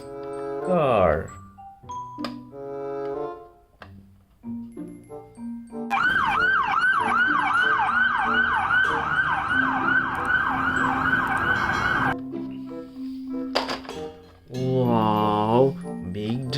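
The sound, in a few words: police car siren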